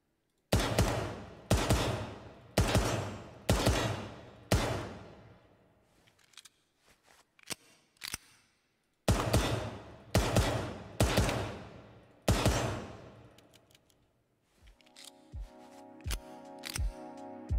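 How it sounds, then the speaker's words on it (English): PMM pistol firing in the Ground Branch video game, sharp close shots in quick bursts of four or five with short pauses, some handling clicks between them and a rattling mechanical burst near the end. "Now, the PMM pistol."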